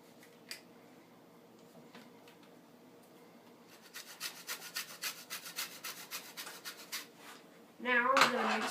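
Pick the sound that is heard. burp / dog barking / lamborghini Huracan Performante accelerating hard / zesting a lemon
zesting a lemon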